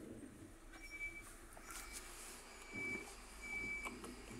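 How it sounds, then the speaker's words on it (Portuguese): A truck descends the steep mountain road of Serra do Corvo Branco in Urubici, Santa Catarina. Its engine gives a steady, fairly close rumble mixed with road and wind noise, with no voices. "Olha o caminhão."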